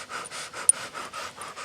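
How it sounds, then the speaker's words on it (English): Rapid rhythmic yoga panting through a rounded mouth, a breath-of-fire practice, with about eight quick, even, close breaths pulsing steadily and no talk. "we're going to do the round mouth breath of fire"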